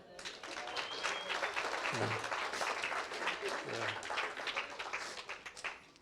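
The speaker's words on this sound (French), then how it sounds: "vous pouvez l'applaudir" A church congregation applauds in a sustained, quiet patter of many hands, fairly distant and soft, with a couple of low voice murmurs briefly heard beneath the clapping.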